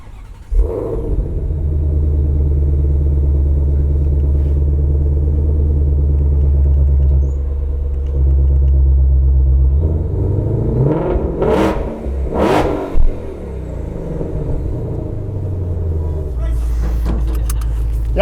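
A 2020 Shelby GT500, a 760-horsepower car set in track mode, starts with a deep burble and settles into a heavy idle, then snaps off several sharp revs, its rumble close and loud with voices talking nearby.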